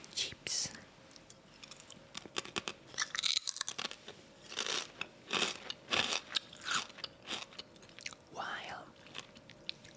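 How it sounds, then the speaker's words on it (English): Crunchy chips are bitten and chewed close to the mic in a whispered ASMR session, giving irregular sharp crunches with soft whispering between them. "I'm gonna be eating some chips."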